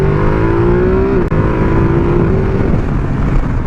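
Ducati Multistrada 1260 S Grand Tour superbike-derived engine revving hard under acceleration, a loud, close, steady rising drone with a brief dip partway through as the throttle is blipped, then pulling on with wind rush.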